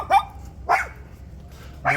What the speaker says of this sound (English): A giant pit bull!